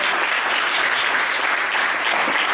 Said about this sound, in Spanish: pues un aplauso muy grande para Ricardo.